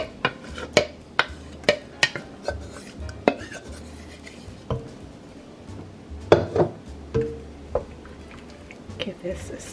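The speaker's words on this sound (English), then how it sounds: "Give this a stir." A spoon scrapes and clinks irregularly against a pot while potato leek soup with diced potatoes and celery is stirred, with sharp metallic knocks through the stretch and soft wet squishes between them.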